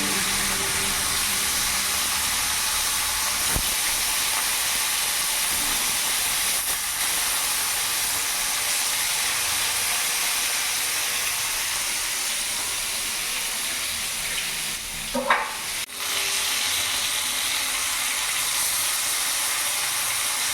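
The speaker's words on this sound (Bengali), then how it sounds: "তেল গরম হয়ে গেছে এবার এক এক করে আমি মাছগুলো ছেড়ে" Rui fish pieces frying in hot mustard oil give off a steady, loud, broad hiss that continues without pause, with a brief crackle burst near the end.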